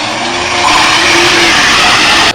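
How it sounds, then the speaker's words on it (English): A rental car pulls away, its engine rising in a loud close revving pass with tyre and road noise swelling, then cutting off abruptly near the end. "Valerie departed with the rental car for the airport in Anchorage"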